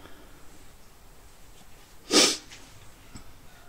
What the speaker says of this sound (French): suis désolée pour le reniflement. Je fais la goutte au nez.